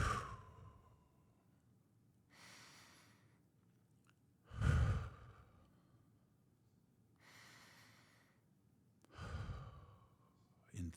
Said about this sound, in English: And so here we go, 3 deep breaths.